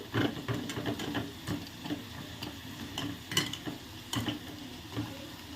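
Potato finger chips fry quietly in oil with a soft, continuous sizzle, broken by scattered clicks and light pan taps at close range and no talking.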